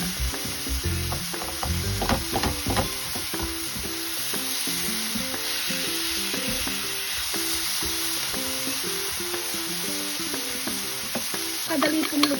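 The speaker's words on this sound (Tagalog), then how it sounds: "Ay, ginigisa lang." Bitter gourd (ampalaya) sautéing in a pan, a loud continuous sizzle with busy spatula scrapes and stirring knocks throughout, strongest early and again at the end, and no speech.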